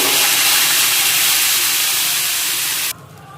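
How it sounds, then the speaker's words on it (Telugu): Hot tempering with asafoetida and turmeric poured into okra stew gives a loud, steady sizzling hiss that cuts off sharply near the end, leaving a quieter bubbling. "ముందుగా చేసి పెట్టుకున్న బెండకాయ పులుసులో ఈ తాలింపు వేసేసుకుందాం."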